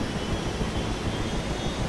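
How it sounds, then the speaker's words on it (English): A helicopter turbine engine spins up in the DCS flight-simulator game, giving a steady, loud whining roar that holds evenly throughout with no voices. "if you hold down the starter button, you should see your gas producer start to rile up"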